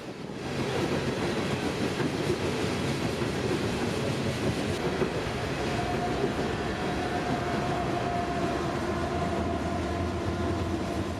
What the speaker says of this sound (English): here comes a manifest train hooked onto the coal train